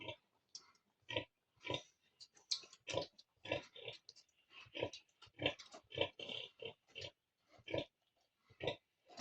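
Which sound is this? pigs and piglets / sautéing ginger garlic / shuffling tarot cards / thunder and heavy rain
pigs and piglets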